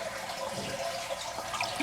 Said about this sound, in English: we're just gonna flush the toilet and let the water drain out.